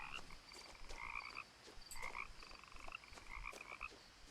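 Frogs croak in the video game What Remains of Edith Finch, a quiet chorus of repeated throaty, pulsing calls that overlap in uneven bursts against a calm background.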